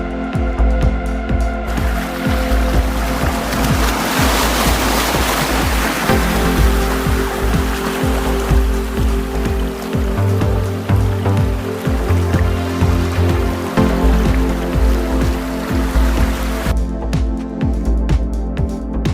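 Stormy sea with heavy rain and wind, a loud continuous roar of surf and pouring rain filling the whole stretch with no letup.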